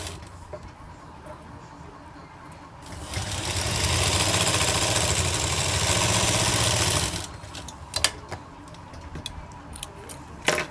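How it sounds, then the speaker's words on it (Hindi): A sewing machine runs a steady stitch for about four seconds, sewing one straight line along a kurti sleeve cut with a baju design, alone at close range, with quiet handling and clicks of fabric before and after. "बस हमें एक सीधी लाइन लगानी है।"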